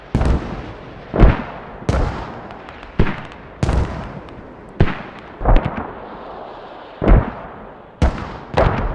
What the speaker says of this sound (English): Just keep mortaring it